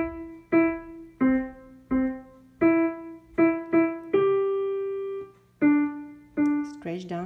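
Skip to My Lou played as a right-hand piano melody in C: about a dozen clear, separate notes in a steady, simple rhythm, with one longer held note near the middle, played close and alone.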